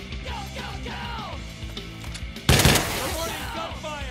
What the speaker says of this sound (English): Reporting gunfire!